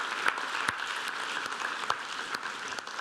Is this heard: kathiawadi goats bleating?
no